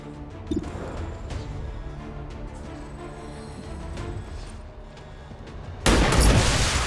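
Game gunfire from a shot in XCOM 2 Long War 2, a sudden loud burst near the end following a stretch of tense music and ambient effects, with no talking.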